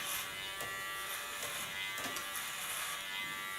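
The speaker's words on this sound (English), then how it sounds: "I can guide my clipper better through the hairs than with a clipper comb on the clipper" An electric hair clipper buzzes steadily up close while cutting short hair guided over a comb, a constant bright hum with small changes in pitch as it moves through the hair, no talk.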